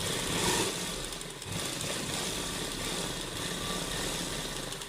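An electric sewing machine runs steadily, stitching pearl lace onto suit fabric, with a continuous motor whir that barely varies across the whole stretch and no voices over it.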